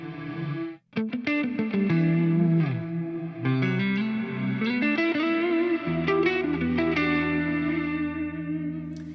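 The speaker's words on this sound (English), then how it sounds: "you can get non-linear reverb, but it's in the Ultra Tap algorithm" Electric guitar played through an Eventide H9 pedal using non-linear reverb from its UltraTap algorithm, with plucked notes and chords that swell and smear into a dense, effect-laden wash.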